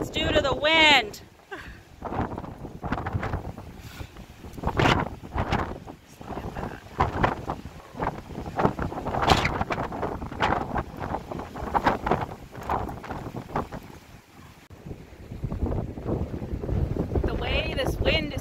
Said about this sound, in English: The way this wind is hitting is ridiculous.